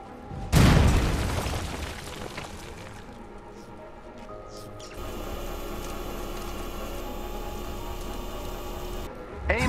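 A turbine is destroyed in Marvel's Avengers, played as Black Widow on PS4 Pro: one loud, close boom bursts out early and fades, then a steady mechanical hum carries on until a final short burst.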